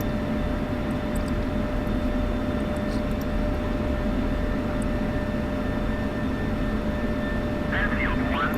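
Jet engine of a simulated F-16CM taxiing in Digital Combat Simulator: a steady, unbroken roar with a constant high whine held at even loudness throughout, with a faint voice in places.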